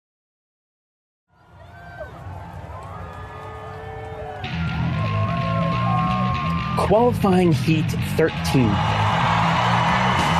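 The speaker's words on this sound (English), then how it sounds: "The roar of the crowd is deafening, almost as loud as the engines racing around the track" After an announcer calls a qualifying heat, a crowd at a race track swells into a sustained roar with whoops and shouts rising over it and staying loud to the end.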